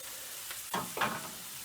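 Food sizzles quietly in a pan for a Jamaican-style jack mackerel dish, a soft, steady frying hiss with two brief brighter crackling bursts as something shifts in the hot oil.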